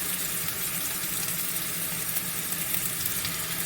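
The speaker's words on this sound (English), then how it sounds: "Listen to that sizzle." Ground beef for burgers sizzles steadily in a hot stovetop pan, a continuous close crackling and spitting with no voices.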